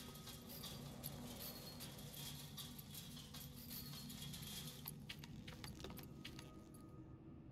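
In a Catwoman video game, metal keys jangle as they are picked up. The bright, rattling clinks sit over a steady low background rumble and fade out near the end, with no voices.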